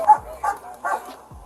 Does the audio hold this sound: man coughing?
no